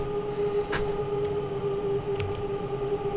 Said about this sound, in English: I can hear Bakerloo Line.